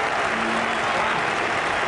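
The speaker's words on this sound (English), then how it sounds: "Listen to the crowd, they're all on their feet" A cricket crowd applauds and cheers at the last ball of an Ashes Test match, a dense, steady roar of clapping that fills the whole stretch at close, loud level.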